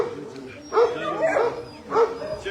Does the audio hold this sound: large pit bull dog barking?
yes